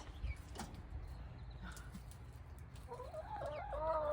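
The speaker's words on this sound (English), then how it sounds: "Happy chickens." Chickens cluck and murmur softly nearby, with a few louder squawky calls rising toward the end over a low background hum.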